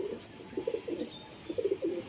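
Soft pigeon cooing, a few low rolling coos in two short bursts, close but quiet over faint room noise, no voices.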